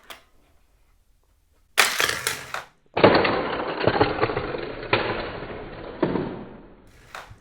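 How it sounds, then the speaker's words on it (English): A Disney Cars toy car fires from a Dinoco Rust-eze racing center launcher across a tabletop, with a sharp clatter followed by a longer rattling, scraping crash into another toy car and a few trailing knocks. "he came off on an angle there and smacked Cruz"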